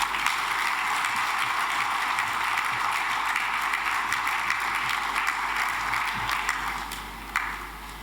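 Sustained applause from a forum audience following a closing speech, a dense, steady clatter of many hands clapping throughout, tapering slightly near the end.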